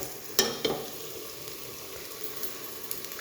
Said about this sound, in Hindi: लहसुन अदरक के पेस्ट को शामिल करने के बाद आपने 2 मिनट के लिए फ्राई करना है